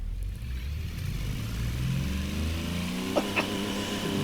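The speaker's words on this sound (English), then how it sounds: "God, what a miserable sounding engine." A tiny 218 cc three-cylinder engine of about 3 horsepower, simulated in the Automation car-building game, drones and revs with a strained, buzzy tone whose pitch slowly climbs throughout, steady and close with no talking.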